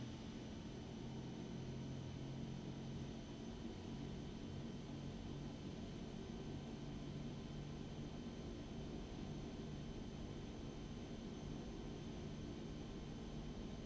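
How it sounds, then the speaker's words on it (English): The turbine of a simulated Epic EG1000 in X-Plane 11 drones as thrust is added, an even, fairly quiet hum and whine that holds steady throughout without voices. "I'll just advance the condition lever a little bit, give ourselves a little bit of thrust."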